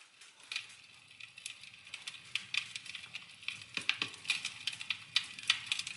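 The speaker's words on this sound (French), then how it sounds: "Voici le bruit d'un foyer." A Google Home smart speaker plays a fireplace ambience: soft, irregular crackles and pops over a faint hiss, growing busier and sharper toward the end.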